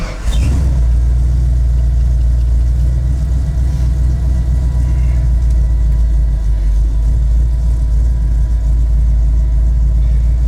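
A Ford F150 bullnose pickup with a built 302 V8 drives along, its engine rumbling loud and steady from inside the cab for the whole stretch, with a slight rev at the start.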